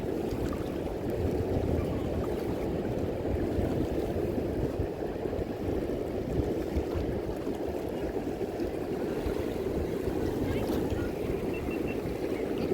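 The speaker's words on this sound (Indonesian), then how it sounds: "Coba naik perahu kecil" A small boat out at sea off Pandawa Beach, Bali, with steady water and engine rumble mixed with wind noise throughout, while people talk over it.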